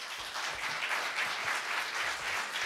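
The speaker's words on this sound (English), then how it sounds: "let's give them a round" An audience at a Seattle candidates forum gives a round of applause, a dense, steady wash of many hands clapping that holds evenly for a few seconds.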